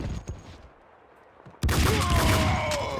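Dual Desert Eagles firing in Max Payne 2, a couple of sharp shots early, a quiet lull, then a sudden loud burst of rapid gunfire with ringing echoes.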